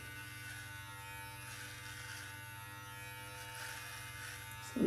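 An electric beard trimmer fitted with a 12 millimeter guard runs with a steady, close buzzing hum while cutting a beard with the grain, holding even and continuous before a brief louder bump at the end.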